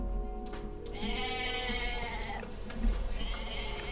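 Goats bleat in Age of Mythology, several long wavering calls overlapping one another above a steady game ambience, one drawn-out bleat followed by another later on, close and clear.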